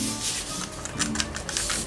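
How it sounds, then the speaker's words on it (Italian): Scissors cut diagonally through a folded fabric band for a recycled top hat, giving a steady close rubbing, snipping rasp that runs for about two seconds with no talk. "e la taglio in senso obliquo."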